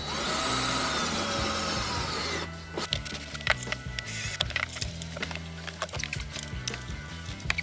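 Hand tools at work while a screw is tried during the fitting of a Chinese diesel heater: a steady mechanical whir at first, then scattered close clicks, taps and ratcheting knocks, with no talking.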